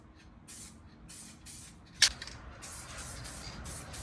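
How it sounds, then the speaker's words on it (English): Bursts of 2K lacquer hiss from a spray gun as a worn plastic-and-metal boat cover is sealed, short sprays repeating every half second or so with one sharper burst midway, close and steady, no talking. "Right now I'm using this 2K lacquer to put on the top to seal it"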